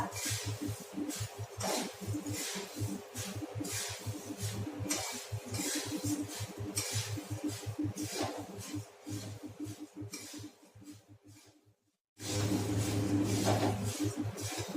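Puffed rice bhel being tossed and mixed in a bowl, with repeated rhythmic clinks and scrapes of a spoon against the vessel, a brief pause near the end, then a louder burst of mixing.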